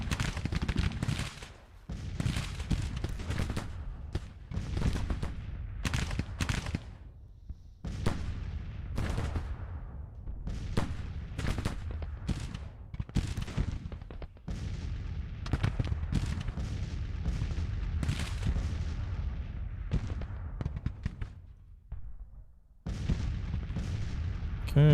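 Dense, continuous gunfire and artillery booms in a Grand Tactician: The Civil War battle, volleys and cannon blasts rolling over one another almost without pause, with a brief lull near the end.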